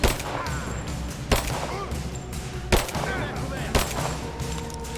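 Gunfire in the video game Rise of the Tomb Raider, several sharp, loud shots a second or so apart, set against a constant dense rumble of battle ambience, with speech mixed in.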